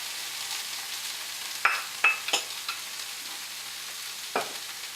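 Celery, peppers and garlic frying in a pan, with a steady soft sizzle under a few sharp stirring scrapes and clinks, close and moderately loud, no talking.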